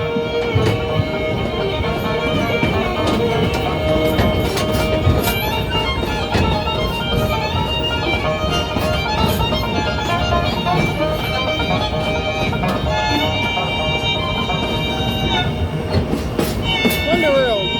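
A steam train rolls along rails with continuous clattering and rumbling, faint metallic squeals and tonal whistling above, steady and close throughout, with voices mixed in.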